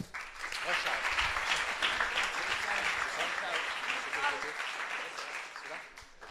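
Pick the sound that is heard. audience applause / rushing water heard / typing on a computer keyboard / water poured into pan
audience applause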